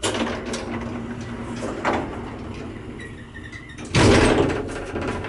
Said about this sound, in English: We let the door close.